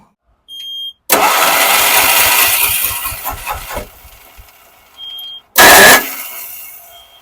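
Diesel Ape auto rickshaw with petrol mixed into its fuel, cranking in loud bursts: a short whir, then a long rough cranking run that catches briefly and dies, followed by two more short cranking attempts after a pause.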